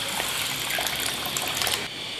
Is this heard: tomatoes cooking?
no